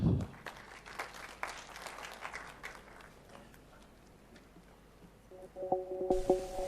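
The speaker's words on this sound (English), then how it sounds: "Please, a round of applause for Miss Diana." A conference audience applauds a presenter at a report launch: fairly quiet, scattered clapping that fades after a few seconds, followed by faint room noise and a tonal electronic hum near the end.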